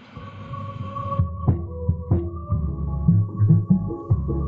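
Deep, heavy bass thumps and throbs from an RCF L18 P400 subwoofer, booming low notes reaching down to 25 Hz pulsing in an uneven rhythm, loud and close with no talking.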